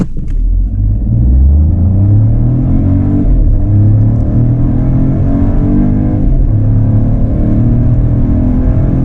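A small Peugeot 2008 Allure car engine revs hard and climbs steadily in pitch as it accelerates from 0 to 100, loud and close, with no voices.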